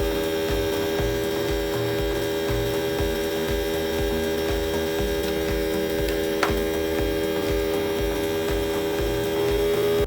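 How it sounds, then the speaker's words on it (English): A small DC motor runs from an adjustable 9–35 V DC-DC power supply module, giving a steady electrical hum with a faint ticking mechanical rhythm that stays nearly even throughout, close and without speech. "By rotating the potentiometer in clockwise direction, the voltage will increase, and you will see that the sound of the motor will also change."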